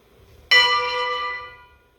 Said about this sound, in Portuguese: Então tem o dobro que é só uma pancada no sino.